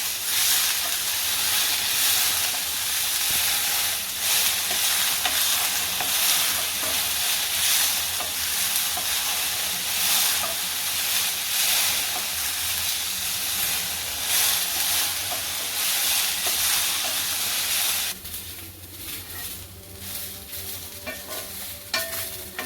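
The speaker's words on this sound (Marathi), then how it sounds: "चांगली दोन तीन मिनटं आपल्याला भाजून घ्यायची आहे गवार" Cluster beans (gavar) dry-roasted in a pan make a loud, steady hiss with constant stirring and scraping, then the sound drops to quieter, sparser clinks and sizzle toward the end.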